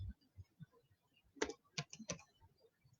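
Three sharp, fairly close keystrokes land at uneven intervals as C++ code is typed on a computer keyboard, over a faint, low background rumble.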